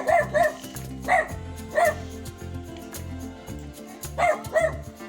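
Dogs bark in quick, uneven bursts, a few sharp yips and woofs clustered together with short pauses between, fairly close.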